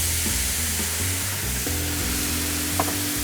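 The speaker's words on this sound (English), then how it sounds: "So we're just going to add some white wine to this." White wine hits a hot pan holding floured rainbow trout, producing a loud, dense, continuous sizzle with a low bubbling undertone, close up and steady throughout.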